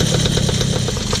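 An ultralight aircraft engine runs steadily just after starting, a loud, continuous mid-pitched drone with a rapid rhythmic pulse and no voices over it.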